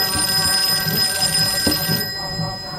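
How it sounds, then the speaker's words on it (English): An old telephone rings steadily and loudly over a dense, humming background in an indoor scene from a Penguin comedy skit. "I hear a phone ringing"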